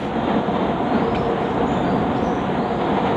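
A train rumbles along the rails in a steady, close, continuous roar with low clattering underneath and no talking.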